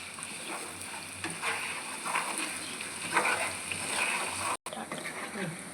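Ginger garlic paste fries in hot oil for a chicken pickle, a soft continuous sizzle with occasional stirring scrapes and spatters, while a voice talks over it.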